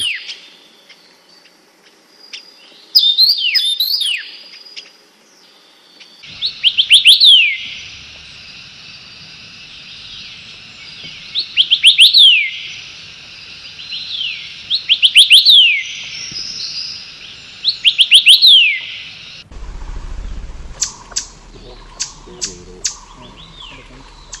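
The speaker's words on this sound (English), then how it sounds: "sound is the call of the Taiwan Yuhina" Taiwan yuhina calls ring out in forest, a series of five or six loud, bright chirping bursts at regular intervals, followed at the end by softer clicking sounds.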